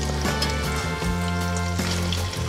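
Challah French toast frying in hot oil and melted butter in a pan, a steady sizzle running without a break, with no voices.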